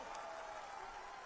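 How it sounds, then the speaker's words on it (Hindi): A crowd at an outdoor political rally in Purvanchal claps in a faint, diffuse, distant wash, steady over a brief moment. "जोरदार ताली बजाओ।"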